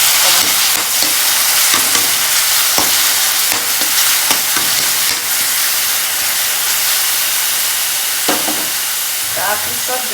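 Onions frying in a pan: loud, dense, continuous sizzling and hissing fills the whole stretch, with occasional scraping clatters as they are stirred, very close and unbroken.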